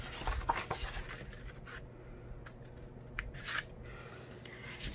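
Scissors snip through paper card up to a score line while a slimline card is made, with several crisp close cuts and rustling in a quiet room.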